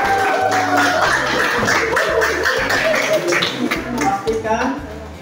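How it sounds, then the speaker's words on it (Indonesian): A class of students claps together in a classroom, a loud burst of many hands clapping with some rhythmic patches, continuing for several seconds before thinning out, with voices mixed in. "Baik, tepuk tangan semuanya."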